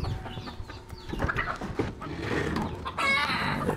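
Layer hens clucking in a backyard coop as they are let out, a busy run of short calls and squawks that grows denser toward the end, fairly close and with no talk over them.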